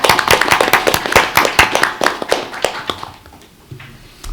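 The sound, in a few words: applause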